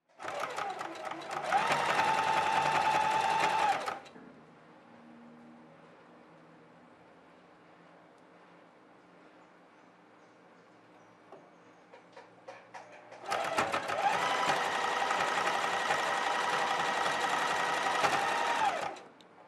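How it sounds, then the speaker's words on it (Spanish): A sewing machine stitches around the edge of a children's garment in two long, loud, steady whirring runs, separated by a quiet pause of several seconds with faint background noise. "ahora vamos a pasar costura por todo el contorno"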